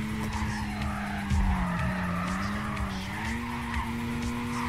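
Car in the Need for Speed: Carbon video game, an engine drone bending up and down while tires squeal and skid continuously, loud and close, with no talking.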